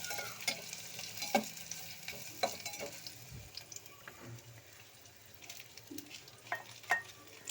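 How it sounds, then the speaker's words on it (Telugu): Finely chopped onions fry in a pan for Maggi noodles, crackling softly while a utensil stirs and scrapes with irregular knocks, alongside a faint running-water sound. "చిన్నగా తరుముకున్న ఉల్లిపాయలు వేసేసాను."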